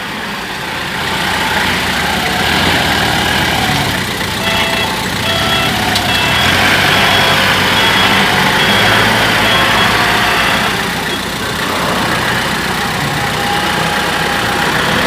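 Steady loud diesel engine of a dump truck idling and working while loading stones at a site in Chanthaburi, continuous heavy rumble with mechanical noise and no talking.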